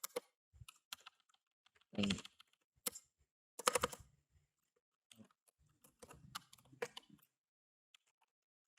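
Computer keyboard typing up close, scattered quiet key clicks in short irregular bursts with pauses between them, and one brief spoken word partway through.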